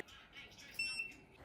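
A UV LED nail lamp (XCuringPRO) emits a short, high electronic beep twice in quick succession when a hand is placed inside, over faint background noise.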